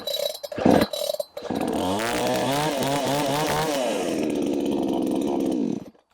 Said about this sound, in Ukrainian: І тепер пробуємо наступну модель. Хапнула, тут же підсос треба засунути.